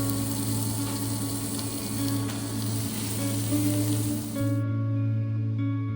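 Goat meat with browned onions fries in a pan over moderate heat, giving a steady, close sizzle that runs unbroken and then settles into a quieter crackle near the end.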